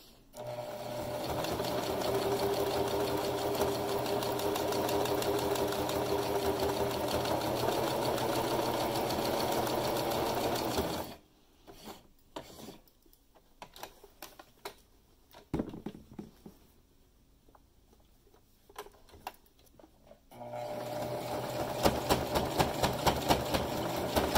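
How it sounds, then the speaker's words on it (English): A sewing machine runs steadily for about ten seconds stitching down a fabric gap, then stops for quieter handling noises and clicks before it whirs again at the end, close and alone. "we're sewing this down so it can't open up again"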